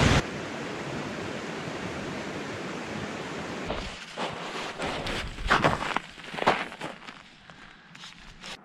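A mountain creek in Colorado's snowy high country rushes with a steady broadband hiss close by for several seconds, then drops back as scuffing footsteps and rustling take over.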